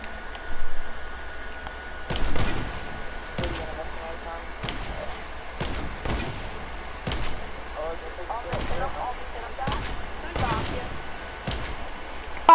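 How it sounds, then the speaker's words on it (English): Sniper rifle shots at zombies in the Dying Light video game: a steady series of about eight sharp single cracks spaced roughly a second apart, over a faint constant hum. "Let me headshot every single one of these people with my sniper."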